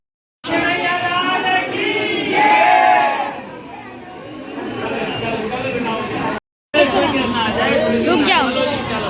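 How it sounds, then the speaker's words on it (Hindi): Dense crowd chatter and raised voices fill a packed temple during Janmashtami, a loud, continuous babble that breaks off briefly before surging back. "देखिए कितनी भीड़ है मंदिर"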